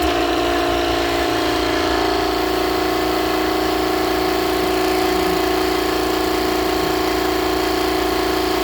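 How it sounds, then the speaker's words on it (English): Compressed air blows out the spark plug cylinder on a 2010 Ford F150, a loud continuous hiss and rushing roar heard up close, steady throughout with a low rumble beneath. "blow out the cylinder with the spark plug out"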